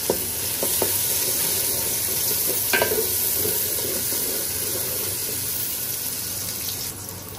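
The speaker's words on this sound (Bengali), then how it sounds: "পেঁয়াজ দিয়ে দিলাম, এর সাথে গরম মশলাটা ভেজে নিব।" Sliced onion and garam masala frying in a cooking pot, a soft continuous sizzle with a few light clinks and stirring scrapes, moderately loud and steady throughout with no talking.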